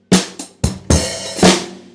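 Several sharp, close drum hits in quick succession, some doubled like flams, from a kit part for a song, loud and punchy with short decays and no talking.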